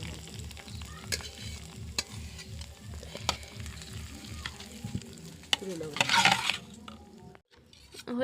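Chopped onion and dried red chillies frying give a soft, steady sizzle with regular scrapes of a stirring spoon, then a louder burst of hissing near the end before it cuts off.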